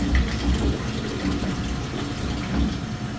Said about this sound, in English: While that's draining, pop it.